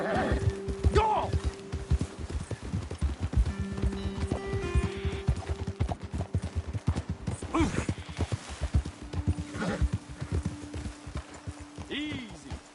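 Hooves clip-clopping rapidly as horses gallop in a PS4 video game, a steady close drumming with occasional whinnies and snorts, running under in-game voices and a music tone.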